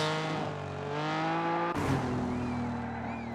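Lancia Stratos rally car in Assetto Corsa Rally held at full throttle, its engine a loud, steady high-revving drone with a brief gear-change dip midway before climbing again, alone without talk.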